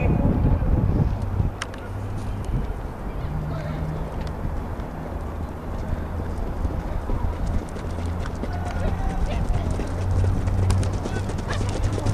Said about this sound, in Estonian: Hobused lõpetavad standi kurvi, viimasele sirgele jõuab esimesena välja Makipoi.